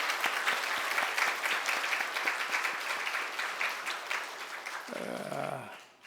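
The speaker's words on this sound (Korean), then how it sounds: "우리 박수로 환영하겠습니다" A church congregation at a Sunday service claps in welcome, a dense sustained round of applause filling the room for several seconds before tapering off, with a brief low murmur near the end.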